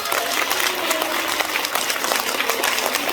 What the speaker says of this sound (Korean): 옆에 계신 분에게 힘내라고 박수 한 번 쳐야 돼.